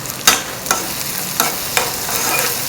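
Raw banana pieces stirred and fried in a pan with salt, a soft steady sizzle punctuated by four or five clear scraping stirs of a spatula, close and moderately loud with no talking.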